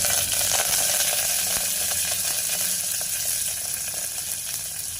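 Cumin seeds, mustard seeds and curry leaves frying in a little oil, a steady close sizzle with fine crackling that holds loud throughout and fades slightly toward the end.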